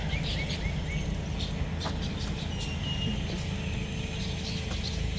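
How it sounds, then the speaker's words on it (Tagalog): Scattered birds chirp and tweet in the distance in a small garden over a steady low background rumble. "Maingay ng mga ibon."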